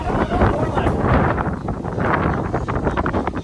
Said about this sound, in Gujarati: આજે કેટલો બધો પવન છે